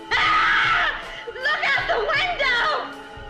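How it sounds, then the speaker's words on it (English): A woman screams in a dubbed 1965 Japanese monster film as a flying saucer is spotted, a rising, wavering cry followed by agitated voices at close range. "When a flying saucer is spotted at Fuji's location, a woman screams in the dub"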